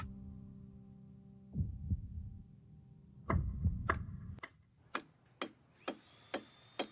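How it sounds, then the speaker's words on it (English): A Stranger Things epilogue opens with a low throbbing heartbeat-like pulse, then a clock ticking in sharp, evenly spaced clicks that stand alone and fairly loud toward the end. "at the very beginning you can hear these two things, a clock ticking and a heartbeat-like rhythm."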